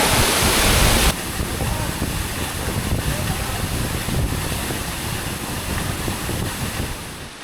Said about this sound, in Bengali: এই ঝর্ণাটা হচ্ছে দ্বিতীয় স্টেপ সাইন প্লাস